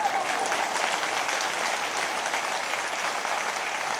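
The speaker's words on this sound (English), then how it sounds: "Another round of applause ensues from the crowd" Sustained crowd applause from an in-game audience in the video game A Tithe in Blood, a dense, steady wash of clapping held at even loudness throughout, with no voices over it.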